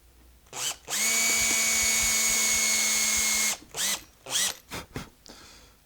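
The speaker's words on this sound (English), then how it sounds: "What I'm doing now is just drilling a few holes in the plug." A power drill boring holes into a guitar truss rod plug on a Fender neck, with one loud, steady whine of about three seconds, then a few short bursts of drilling.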